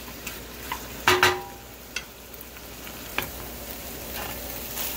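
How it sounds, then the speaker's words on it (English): Beef and broccoli fry in sauce in a pan, a constant sizzle broken by a loud clatter of stirring near the start and scattered scrapes afterward. "just give it a stir. Make sure it's getting its time to soak in some of the sauce from your pan there"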